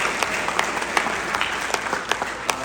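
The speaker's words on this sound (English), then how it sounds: "Another round of applause, please." An audience at a Constitution Day event gives a brief round of applause, a dense patter of clapping with a few sharper individual claps standing out.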